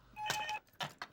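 A telephone rings in short, quiet bursts: one longer electronic trill, then two brief ones close together.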